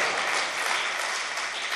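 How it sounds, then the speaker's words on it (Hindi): Audience applause at a mushaira poetry recital in Jalandhar, a dense, even wash of many hands clapping steadily throughout, with no speech. "जोरदार तालियों से एक बार इनका हौसला बढ़ा दीजिए"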